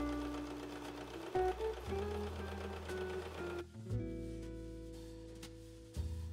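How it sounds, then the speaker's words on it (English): A domestic sewing machine runs a buttonhole stitch along jacket trim, its steady motor whir and rapid needle rhythm shifting pace in short bursts with brief pauses, close and fairly quiet. "I used the buttonhole stitch on my domestic machine to properly sew along the edges of the trim window"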